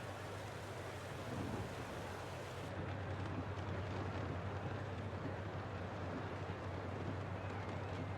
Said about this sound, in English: I haven't actually listened to the sound of the rain